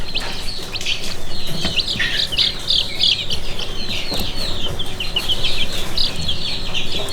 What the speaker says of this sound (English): These are Wyandotte bantam chicks, by the way. This is the dun mottled chick that's eating from my hand.